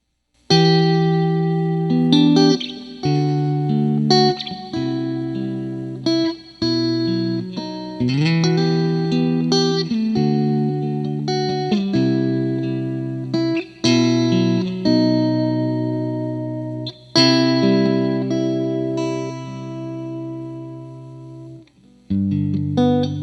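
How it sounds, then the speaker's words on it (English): Sustained chords and single notes ring through an Eventide Space reverb pedal on a mild setting, each phrase trailing off in a soft, clean decay with steady, fairly loud playing and brief pauses between phrases. "I've dialed in sort of a mild reverb, and we'll see how it compares to the Lexicon."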